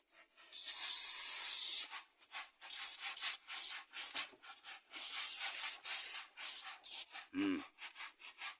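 Combinix fly repellent sprayed on a sow comes as repeated close, loud hissing bursts from a spray can, some long and some short, with pauses between and a brief low grunt near the end.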